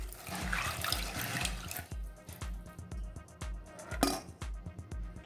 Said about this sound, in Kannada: ಇದನ್ನು ಮೊದಲು ನೆನೆಸಿರೋ ನೀರನ್ನು ವಾಶ್ ಮಾಡಿಕೊಂಡು ಮತ್ತೊಂದು ಸತಿ ನೀರನ್ನು 1-2 ಸತಿ ತೊಳೆದ್ಬಿಟ್ಟು